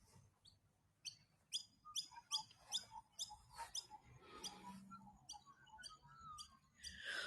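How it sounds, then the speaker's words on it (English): Magpies call at dawn from a hilltop lookout at Pensioners Hill, Gunnedah: a string of bright, clear chirps and warbling notes in irregular bursts, moderately near over quiet open-air background. "I can hear magpies"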